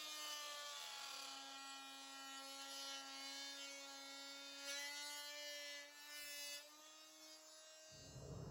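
A tool cutting a lower door panel on a Honda Talon 1000 X4 gives off a steady, high, humming whine that runs unbroken for several seconds and then stops abruptly. The sound is faint and heard alone.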